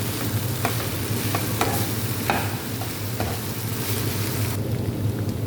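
Onion frying together with meat in a hot pan, a loud, dense, continuous sizzle with occasional crackles and stirring sounds, no talking.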